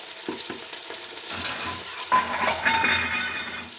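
Onions and green chillies frying in a pan with ginger already browned, a close sizzle rising as they go in, with stirring scrapes and light clinks of a utensil.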